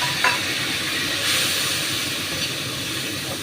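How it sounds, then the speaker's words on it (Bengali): Hot masala meets a splash of water and erupts into a loud, broad steaming hiss that stays steady and close, fading slightly near the end. "এটাকে ভালো করে একটু কষাবো একটু জল দিচ্ছি"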